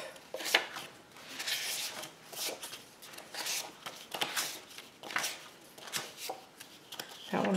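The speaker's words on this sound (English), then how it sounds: "we're going to divide this paper in half" Sheets of paper are handled and split in half for art kits, a close series of quiet rustles, crinkles and soft scraping strokes coming in irregular bursts, with no speech.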